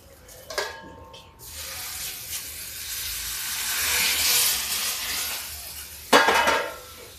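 Ghee tempering with onion and Kashmiri chili poured over mung sabji: a brief hiss and sizzle as it hits the dish, a steady frying rush, and sharp clinks of a metal pan or ladle at the start and end.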